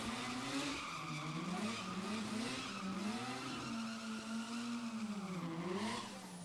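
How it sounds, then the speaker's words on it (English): A race car at a Billet Boss Buznats racing event, its tyres squealing in one loud, continuous wavering screech over roaring engine noise from start to finish. "you hear those tyres turn from friction to liquid"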